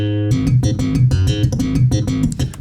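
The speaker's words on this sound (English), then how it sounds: "I took a sample of someone really going at it at doing slap bass" Sampled slap bass guitar riff played alone, loud and close, with punchy, percussive plucked and popped notes in a busy, funky rhythm.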